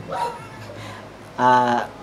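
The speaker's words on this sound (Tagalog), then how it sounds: "yung aso, umahol" Muffled voice-like sounds at first, then a single loud, tonal dog bark near the end.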